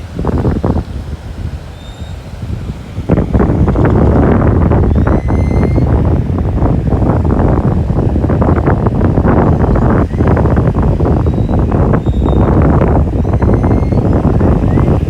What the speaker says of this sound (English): Trying to let y'all hear the waves, but I'm afraid you'll just hear wind.